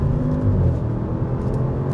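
A 2021 Audi S8 accelerates at full throttle, heard from inside as a deep, steady engine rumble with a low whir that holds continuously for two seconds.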